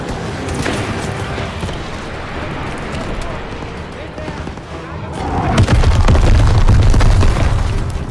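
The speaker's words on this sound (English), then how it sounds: "Grenade!" Grenade explosion in Call of Duty WW2 during a street battle, a loud deep boom erupting partway through and rumbling on amid scattered gunfire, with voices shouting earlier.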